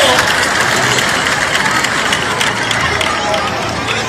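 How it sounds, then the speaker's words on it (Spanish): A large outdoor crowd at a bull-leaping contest in Losar de la Vera applauds a performer, dense steady clapping and crowd noise filling the whole stretch with voices mixed in. "¡fuerte el aplauso para él!"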